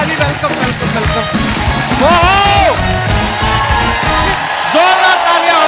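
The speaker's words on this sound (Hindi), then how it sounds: "जोरदार तालियां हो गए, वाह।" A studio audience on The Kapil Sharma Show cheers, whoops and shouts loudly as a guest arrives, a dense, continuous crowd roar with rising yells layered over it.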